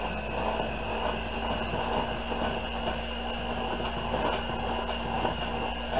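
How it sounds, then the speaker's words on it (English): Electric hand mixer running steadily while creaming cupcake ingredients in a home kitchen, a continuous whirring motor drone with a constant pitch, fairly loud and close, alone without talk. "my hand mixer"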